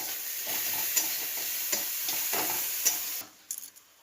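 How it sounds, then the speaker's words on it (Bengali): Spice masala with a little sugar sizzles in a pan under steady stirring with a few spoon clicks, then drops off abruptly near the end to quieter scattered taps. "একটু চিনি, ভালো করে কষিয়ে নেব।"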